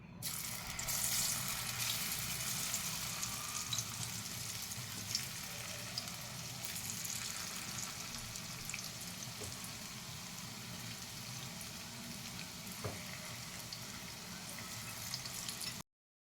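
Okra fritters (bhindi bhaji) fry in hot oil, a steady, faint, bubbling sizzle that runs continuously for the whole stretch with a few small clicks, no voices present.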